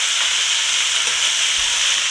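Steady, loud sizzling of beef frying in a hot pan, a constant crackling hiss with no pauses or voices.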